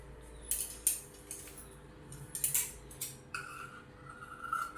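Scissors snip through blouse fabric to shape the sleeves, a few crisp, quiet cuts and small clicks at close range in an otherwise still room.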